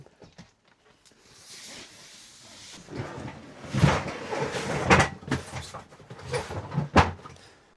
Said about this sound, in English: So I'll just get this box on the bench and start opening it up.